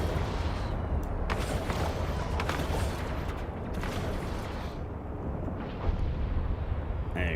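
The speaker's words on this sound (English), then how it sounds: "I'm shooting their ships." Ship weapons fire in the space game EVE Online makes a continuous rumbling barrage of booming impacts and crackling blasts that eases slightly toward the end.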